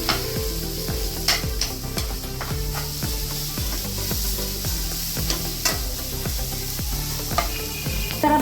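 Grated bottle gourd roasting in a hot pan for halwa, a constant close sizzle broken by rhythmic scraping stirs of a spoon against the pan, with no talking.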